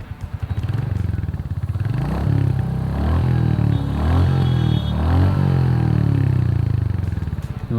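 Royal Enfield Hunter 350 motorcycle running with its engine and exhaust note loud and close, revs rising and falling in a few smooth swells over a steady throbbing idle.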